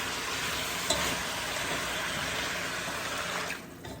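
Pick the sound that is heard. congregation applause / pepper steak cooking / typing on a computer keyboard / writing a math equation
pepper steak cooking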